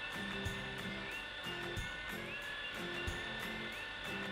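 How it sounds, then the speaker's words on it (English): An electric mixer grinds cooked beef with a high, whining motor hum. Rhythmic thumps sound as the meat tumbles in the jar, running continuously at close range with no speech. "I'm going to put it into the mixer twice"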